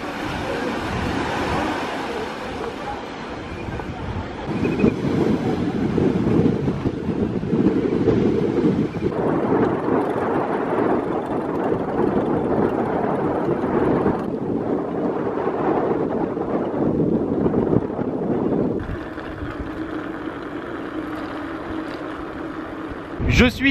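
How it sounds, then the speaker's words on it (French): Strong wind blowing on a desert coast in Peru, heard by a cyclist: steady, loud rushing and buffeting against the microphone for over twenty seconds, swelling and easing in gusts with a roar like surf beneath. "Comme vous l'entendez, il y a beaucoup plus de vent que ce matin."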